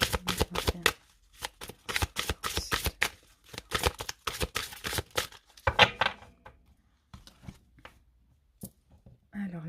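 A deck of tarot cards is cut and shuffled by hand in quick bursts of riffling flutters, close up, with short pauses between; someone speaks softly in places between the bursts.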